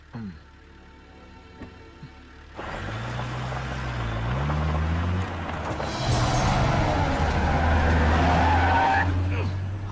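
A car pulls away with its engine revving loudly and its tyres skidding and squealing, a rising roar that fills most of the stretch after a quieter opening, with a brief bit of talk early on, in a Malayalam movie scene.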